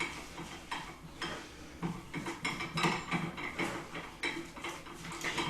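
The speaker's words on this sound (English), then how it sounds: "we're going to add in our egg. So let's mix all that together" An egg is mixed into pizza dough ingredients in a bowl, producing a run of irregular clinks and scraping taps of a utensil against the dish, moderately close and steady.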